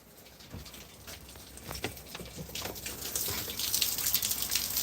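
Rain drips from a house gutter in wet weather, with soft irregular patters and splashes over a steady hiss of rainfall that grows slightly louder toward the end.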